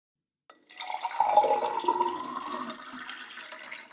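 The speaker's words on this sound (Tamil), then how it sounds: "இந்த ஒரு குடம் மட்டும் ஊற்றுறேன், நிறைஞ்சிருச்சு இப்போ வேவும்." Water poured from a pot into a tub while washing dishes at home, a steady splashing gush that starts after a brief silence and keeps running for several seconds, close and moderately loud.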